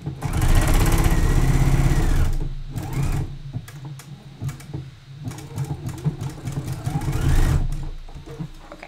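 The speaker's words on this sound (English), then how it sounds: "I'm just going to top stitch the strap allowance as well" A sewing machine top stitching a swimsuit strap allowance whirs close by in a loud, sustained run, then continues in shorter, uneven bursts.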